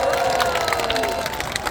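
Outdoor festival crowd at a salted shrimp festival in Mapo applauds the district mayor, a dense wash of clapping and cheering that carries on briefly at steady volume.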